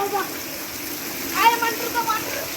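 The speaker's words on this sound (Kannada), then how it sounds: "ಮಳೆ ಜೋರಾಗಿ ಬರ್ತಾ ಇದೆ ನೋಡಿ" Heavy rain pours steadily in Teradal as a broad, even wash of splashing and gushing water, fairly close, with faint voices briefly audible over it.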